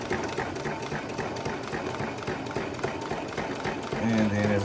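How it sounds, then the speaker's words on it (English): A sewing machine stitches a fabric journal cover in a quiet, continuous whir, near and moderately loud, with a louder running burst at the end. "I'm going to actually sew with the curve"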